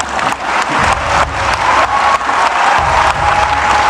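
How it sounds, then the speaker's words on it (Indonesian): Steady applause from a crowd, broadband clapping that continues evenly throughout without a break. "Kok tepuk tangannya tidak bersemangat?"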